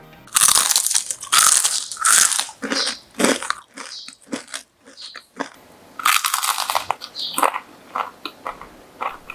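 Crunchy fried potato-and-sausage snack bitten and chewed close up: a series of loud, sharp crunches in irregular bursts with brief quiet gaps, no talking.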